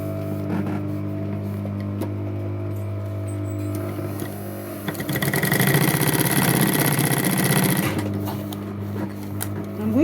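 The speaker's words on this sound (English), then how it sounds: "And then I will sew it." A sewing machine runs a steady, rapid stitching burst for about three seconds while sewing a cube-shaped pouch purse, rising over a constant low background hum that continues before and after.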